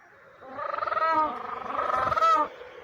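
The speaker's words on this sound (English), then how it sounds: "The penguin is a type of bird that doesn't fly." Penguin call: a loud, nasal, braying cry of rapid pulsed harmonic notes in two long bursts, the second rising to a strained peak, heard alone over a faint background.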